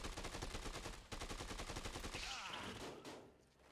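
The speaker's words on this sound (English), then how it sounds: "It's shooting at me still." Rapid enemy gunfire in Dead Rising 2, a fast automatic rattle of evenly spaced shots running continuously before tapering off near the end.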